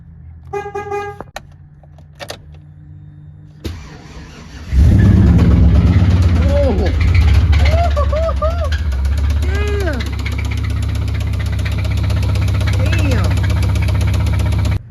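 A 200,000-mile stock 5.3L V8 with a spun bearing starts after a few brief clicks, then idles loudly close by with a harsh rhythmic knock beneath the running engine.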